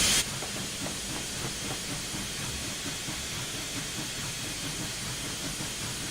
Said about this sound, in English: I somehow managed to apply the locomotive brake